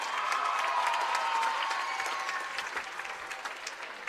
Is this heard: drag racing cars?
no